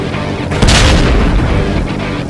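An explosion in the video game Ride to Hell: a single loud, deep boom that swells abruptly and rumbles on for a second or more before fading, with no voices.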